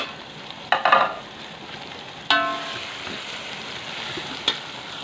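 Spices roast in oil in a pot with a low frying hiss, broken by a few metallic clinks and a ringing scrape of a utensil against the pot.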